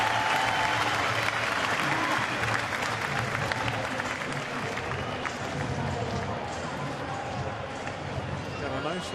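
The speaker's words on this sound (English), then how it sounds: "Nice little round of applause for his work in Cleveland." Baseball crowd at a Minnesota at Pittsburgh game applauding a batter coming to the plate, a dense, continuous roar of clapping and crowd noise that stays loud throughout, with voices mixed in.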